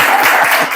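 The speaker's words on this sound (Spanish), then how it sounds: "Fuerte el aplauso para mí." Brief, loud applause from an audience at an intercollegiate debate tournament, a short dense burst of clapping for the speaker.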